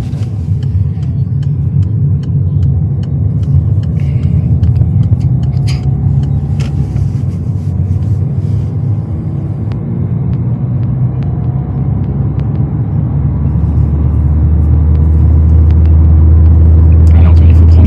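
A car engine rumbles steadily during a driving lesson on the way to Limoges, building to a louder, deeper drone toward the end, with people talking throughout.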